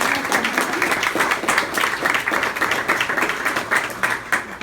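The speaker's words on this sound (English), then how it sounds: "That deserves a great round of applause." A crowd applauds at a governor's public event on veterans' funding, giving a dense, sustained round of clapping that stays loud and even throughout without a voice over it.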